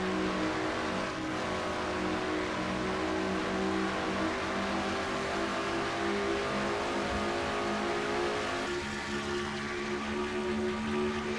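Race car engines in a NASCAR-style stock car racing game, a loud continuous high-pitched engine drone at full throttle, steady and close with slight pitch shifts, no talking.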